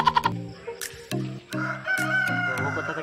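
A rooster crows loudly and close by, several drawn-out calls with short clucking notes at the start.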